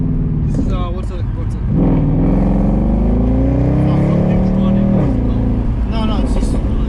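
Mercedes C63 AMG with a 6.2L V8 and multi-clutch transmission accelerating hard from inside the car, a loud deep engine roar climbing through gears with short shift breaks, with people talking over it.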